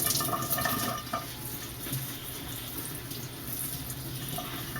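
A kitchen faucet runs steadily while kale is rinsed under it, a continuous hiss of water splashing into the sink with slight shifts in the flow and no talking.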